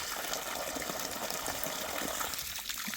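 Water and sand flush out of a hydraulic tank in a steady, rushing gush that stays constant and fairly close for the whole stretch, with no voices over it.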